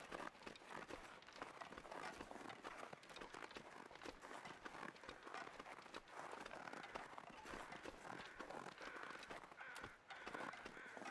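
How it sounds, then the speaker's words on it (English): Crows cawing in the wilderness of The Long Dark video game at dusk, repeated harsh caws over a steady wind-like ambience with soft crunching footsteps, moderately distant and continuous. "Crows, that means that there is a corpse of some kind up ahead."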